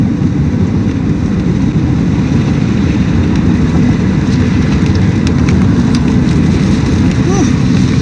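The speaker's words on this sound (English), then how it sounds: "Here comes the rain." Rain arrives during a severe storm in South Dakota and Minnesota, a loud, steady hiss and patter, with engine and road noise beneath it and someone speaking briefly.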